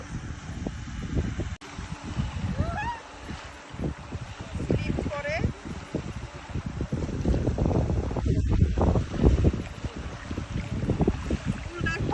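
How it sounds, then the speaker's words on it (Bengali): Strong wind gusts across a lakeside walkway at the Love Lake in Dubai, rumbling and buffeting the microphone continuously, with someone talking over it. "প্রচুর বাতাস"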